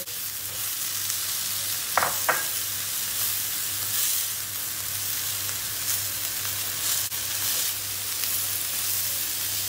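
Köfte meatballs frying in a pan after being turned, a steady, close sizzle and crackle throughout with a couple of sharp scraping clicks early on and a low hum underneath.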